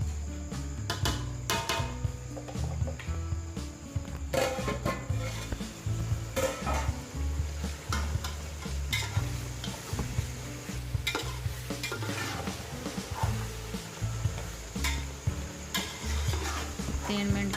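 Aloo matar rice with salt is stirred in a pot, a spoon scraping and knocking against the metal in irregular bursts over a faint background sizzle, fairly quiet and without talk.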